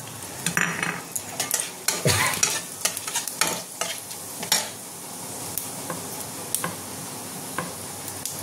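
Bay leaf and whole cumin seeds sizzling in hot oil, a loud steady frying crackle broken by repeated sharp scrapes and clinks of a stirring spoon against the pan.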